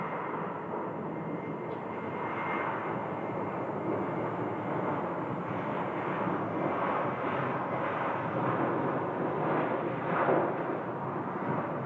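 An American Airlines airliner arriving at Phoenix airport gives a steady, broad jet roar, moderately distant and sustained throughout, with no talking.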